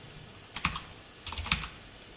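Keystrokes on a computer keyboard while typing JavaScript/jQuery code, two short close bursts of clicky taps separated by a pause, quiet and alone with no talk.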